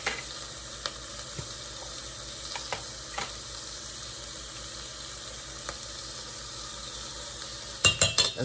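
Diced garlic sizzles steadily in a pan for beef stew, a dense, even frying hiss with a few soft clicks, ending in a short burst of louder scraping or stirring knocks.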